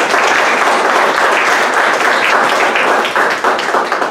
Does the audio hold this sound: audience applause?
yes